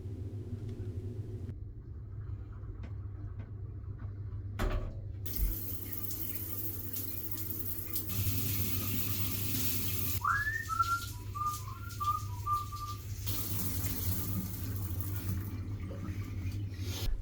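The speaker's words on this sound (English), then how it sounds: "now it was time to warm up by enjoying a lovely hot shower" A hot shower runs in a tiny shipping-container hotel room in London, a steady low hiss of water over a background hum, fairly quiet, with brief bumps and a short whistling tone partway through.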